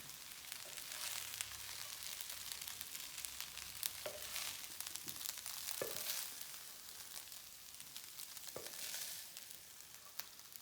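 Rice fries in a fry pan with a soft, steady sizzle, quiet and close, punctuated by occasional scraping stirs.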